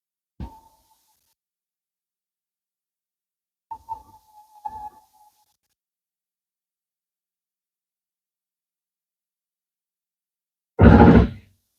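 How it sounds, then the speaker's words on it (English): A few faint, short clicks with a slight ringing tone from a 2012 Shasta Revere RV slide-out motor at full extension, spaced apart in near silence, then a louder burst of grinding noise at the end. "once that slide out's fully extended, you're just going to hear some clicks of the motor"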